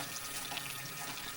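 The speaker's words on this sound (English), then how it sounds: "Oh, I see water draining" Water draining and trickling steadily from a gel block shot with ammunition, a faint, continuous close hiss with no talk.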